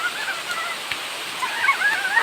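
Can-umantad Falls waterfall running at a low, scheduled flow, giving a steady, moderate rush of water with faint splashing throughout, with no one speaking.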